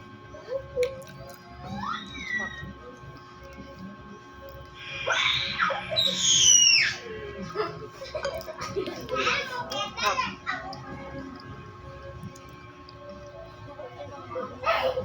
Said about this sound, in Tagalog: Narinig yung maingay kasi mga bata naglalaro ng granny